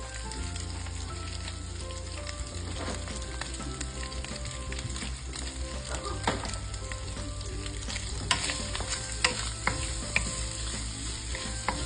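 Fried rice frying over high heat with coarse salt, a loud continuous sizzle with steady scraping and stirring throughout, no voices.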